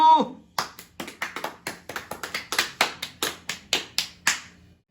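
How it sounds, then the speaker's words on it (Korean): A group at a church winter camp claps a rhythmic patterned 'success clap' together, about a dozen sharp, loud synchronized claps in a steady beat after a short voice at the start. "성공 박수"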